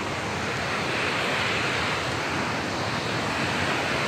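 A river flows alongside the trail on the Langtang valley trek in Nepal, a loud, dense, continuous rushing roar of water with no pauses and no voices.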